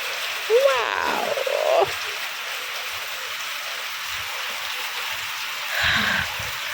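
Evening rain falls outdoors as a steady, even hiss throughout, with a brief voice sound near the start and a short croak-like sound near the end.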